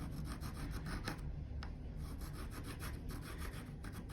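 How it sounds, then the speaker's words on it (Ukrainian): Small slots being filed into a homemade fishing spinner lure, giving a close, steady run of rapid rasping strokes in quick, even rhythm, with no voices. "Пропилчики роблю для того, щоб я вставив проволочку сюди."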